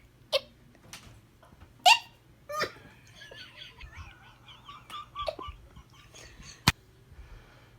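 A woman hiccups repeatedly in sharp, sudden squeaky bursts at irregular intervals, interspersed with quieter giggling and soft vocal sounds close by.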